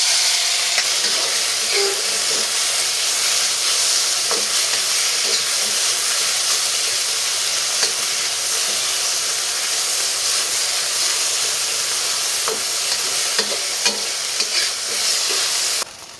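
Beef hits a smoking-hot wok with cooking oil and fries with a loud, continuous sizzle and hiss, broken by occasional clicks and scrapes of stirring, close up and without talk.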